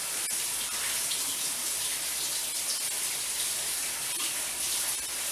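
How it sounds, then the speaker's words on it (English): Warm tap water runs steadily over frozen shrimp in a kitchen sink, a continuous close splashing hiss with faint irregular spatters and no talk. "So let me run it under some warm water, and that's all it needs."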